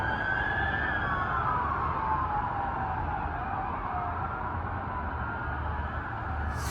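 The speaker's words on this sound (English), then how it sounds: "A ton of police cars headed north on the 101." Police car sirens wail as several vehicles pass along the 101 highway, a distant, wavering siren tone gliding downward over a steady roar of traffic, fairly faint and with no talking.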